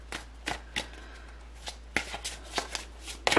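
Tarot cards being shuffled close by, with a series of crisp riffling slaps and soft flutters in short bursts and no voice over them.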